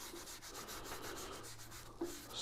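Wood edges are sanded by hand with quiet, rhythmic rubbing strokes, a soft scratchy swish repeating steadily and close by, with no voices.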